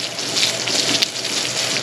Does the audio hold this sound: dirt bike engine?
no